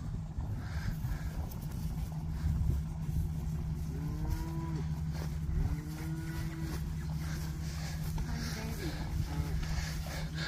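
Cattle moo several times at moderate distance, low drawn-out calls over a steady engine-like hum and outdoor background noise.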